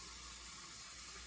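Hot water running from a tap into a glass, a steady, even rushing hiss lasting about a second with no voices.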